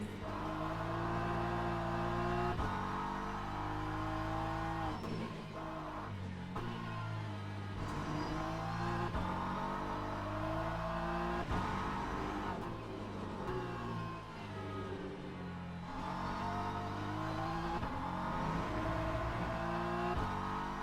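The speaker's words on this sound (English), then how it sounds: "Another hypercar passing through." Hypercars in the Le Mans Ultimate racing game roar past at Fuji, their engines rising and falling in pitch through repeated gear changes and passes. The engines are loud and continuous with no voices.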